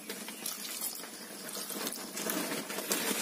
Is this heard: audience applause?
no